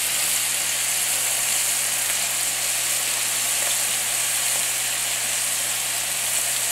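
Chicken wings fry in hot oil with a dense, loud, continuous crackling sizzle that holds steady throughout, alone with no voices.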